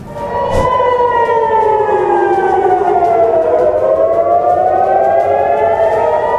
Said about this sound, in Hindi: सायरन बज उठे